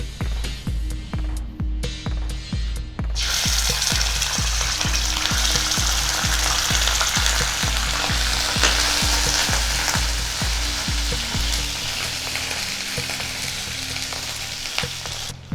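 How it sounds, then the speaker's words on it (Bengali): Sour yogurt dropped into hot oil for a Bengali prawn curry with giant freshwater prawns, bursting into a loud, sustained sizzle and frying hiss after a few seconds of bubbling, with steady stirring underneath. "তেল গরম হতে শুরু করে দিয়েছে, এখন আমি টক দইটা দিয়ে দেব।"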